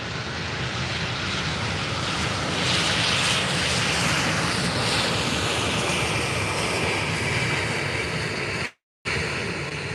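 An EasyJet airliner from Bristol at Faro Airport gives a loud, steady broadband engine roar that fills the whole stretch, with a brief cut near the end.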